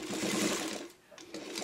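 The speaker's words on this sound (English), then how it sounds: "I'm just going to go top stitching right across the top and go a couple stitches forward, a couple back" A sewing machine top stitching across a black quilt, running in a steady close whir for most of the stretch, briefly pausing, then resuming with a couple of short forward and back stitches.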